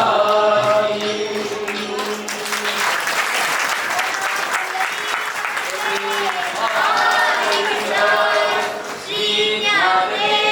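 An audience breaks into loud, sustained applause, dense clapping that holds steady for about ten seconds with voices rising through it.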